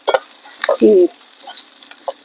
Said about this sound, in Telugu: ఇప్పుడు అంతా బాగా పచ్చివాసన పోయేదాకా ఇట్లా కలుపుతున్నాం